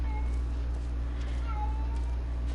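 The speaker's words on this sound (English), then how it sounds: "I don't know if you can hear her, but my cat is incredibly lonely right now." A pet cat gives a couple of soft, drawn-out meows, faint and partly buried in a steady low hum.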